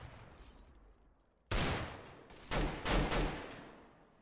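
Bursts of gunfire from a Call of Duty gun in the Roblox game Counter Blox: a sharp volley starts abruptly, then a second round of rapid overlapping shots, loud and close, with no talking.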